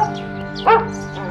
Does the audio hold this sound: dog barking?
yes